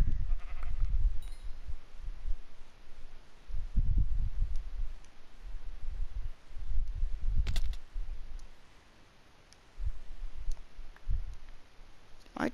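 Minecraft sheep bleating in a survival game, several short low bleats scattered over a background of clicks and game noise, close and moderately loud.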